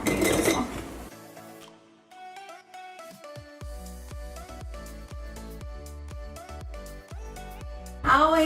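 Metal spoon clinking against a pot as eggs are lowered one at a time into boiling water, a series of light clinks and taps over a steady background hum.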